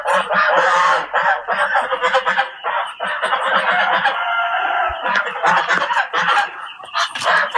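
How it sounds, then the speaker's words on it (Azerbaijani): A rooster crows loudly close by while chickens cluck, and geese honk now and then in a busy backyard flock. "Xoruzumun yekəliyinə bax."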